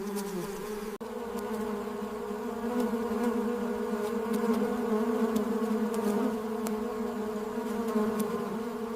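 Stingless bees buzz close by in a forest, a steady droning hum holding for the whole stretch with faint ticks scattered through it and no voice.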